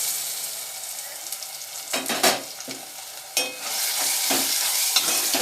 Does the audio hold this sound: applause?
no